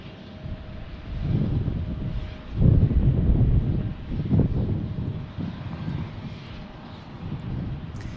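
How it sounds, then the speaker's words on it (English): A Piper Meridian turboprop passes at Tucson airport with a broad, rumbling engine roar that swells, peaks and eases over several seconds, heard at moderate distance with some wind. "I think this is the Piper Meridian coming back we saw earlier."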